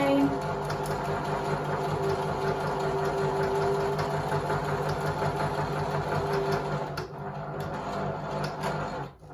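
A sewing machine back stitching hexagon quilt seams runs with a steady, continuous mechanical whir and hum for most of the stretch, then slows and drops off near the end.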